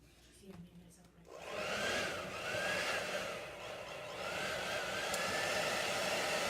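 An air dryer blows to dry chalk paste on fabric, starting after a short quiet moment and then running as a loud, steady whoosh for several seconds.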